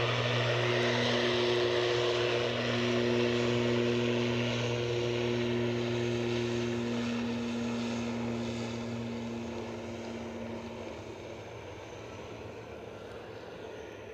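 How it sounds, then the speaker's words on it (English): Aircraft engine drone near Edinburgh Airport, matching a helicopter passing nearby, with steady tonal hum and broadband roar held loud and even before slowly fading over the final seconds. "I'd say I could hear a helicopter."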